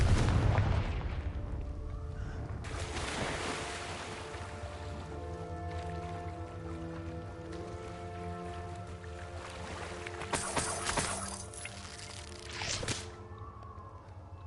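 A Confringo fire spell in Hogwarts Legacy detonates with a sharp blast, followed by a sustained tonal ringing and rumbling game ambience, a few more bright impacts near the end; fairly quiet overall.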